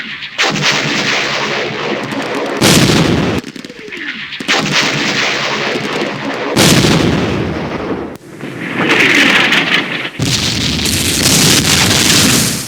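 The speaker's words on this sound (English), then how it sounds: "Awfully close enemy fire." Repeated bursts of enemy gunfire and artillery from a Campaign Series Middle East wargame, Arab-Israeli War setting, loud and close, coming in several heavy blasts separated by brief pauses, with no talking.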